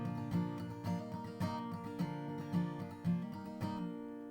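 An acoustic guitar rings a suspended chord while the ring finger hammers on, with repeated strums and bright sustained notes under steady picking, clear and close with no voice.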